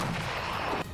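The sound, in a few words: Russian artillery cannon fire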